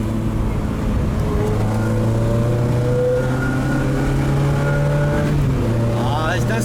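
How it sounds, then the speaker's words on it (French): Peugeot 309 GTI with a 1.9-litre engine revving and accelerating through the gears, a loud, close rising engine note that climbs, drops at a shift, then climbs again over steady road rumble. "on va écouter la sonorité de cette belle 309 GTI"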